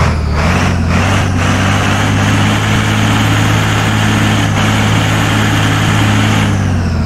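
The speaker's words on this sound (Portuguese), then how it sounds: "Vamos ver o ronco do motor" The engine of a Scania 113H truck in a truck-driving video game rumbles steadily and loudly at a constant idle-like drone, with a deep low hum throughout and no talking.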